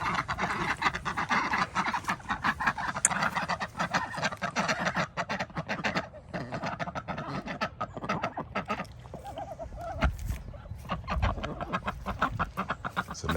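Ducks and geese calling busily in a backyard duck yard beside a pond, a dense, continuous chorus of overlapping quacks and honks close by with scattered louder bursts throughout.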